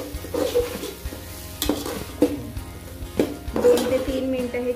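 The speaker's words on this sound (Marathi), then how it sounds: "हे छान परतून घ्यायचे।" Vegetables for pav bhaji are sautéed in a pan, with repeated spatula scrapes and stirring knocks over a soft sizzle, close by and without talk.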